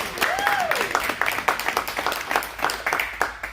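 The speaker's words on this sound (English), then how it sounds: "Give yourself a round of applause." An audience at a gallery children's reading claps in a lively patter of sharp, uneven hand strikes, with a brief high vocal exclamation near the start and light voices under the clapping.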